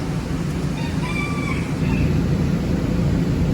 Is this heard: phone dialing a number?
no